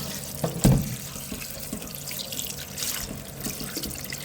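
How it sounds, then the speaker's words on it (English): Tap water runs and splashes softly onto salt fish being washed in a sink, with a few light knocks and trickles throughout. "run the water on it and wash it."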